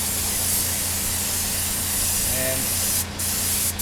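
Red spray paint hisses from an aerosol can onto a Yamaha FZ600 motorcycle part in a steady, close burst, with brief pauses near the end and a voice talking over the spraying.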